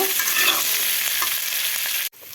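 Boiled, peeled potatoes go into a pan of frying onions and tomatoes, a dense close sizzle with stirring scrapes that cuts off abruptly near the end, then resumes more softly.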